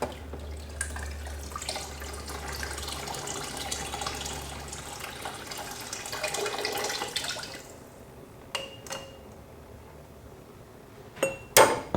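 Water pours steadily out of a canning pot after jars of homegrown orange juice are lifted out, a continuous splashing rush lasting several seconds, then fading to a few separate clinks and knocks.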